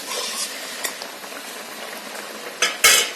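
Meat cooking in a large pot for an iftar meal is stirred with a utensil, giving soft scraping and sizzling, then two sharper metallic clanks against the pot near the end.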